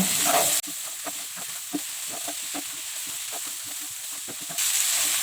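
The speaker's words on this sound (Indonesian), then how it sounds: "Nah, ini kita aduk rata." A spoon stirs fine salt into a pan of Indonesian mie tek tek noodles, giving repeated soft scraping strokes over a steady sizzling hiss.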